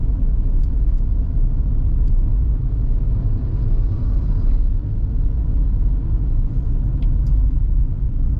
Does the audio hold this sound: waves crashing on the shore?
no